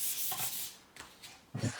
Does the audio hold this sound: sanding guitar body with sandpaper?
yes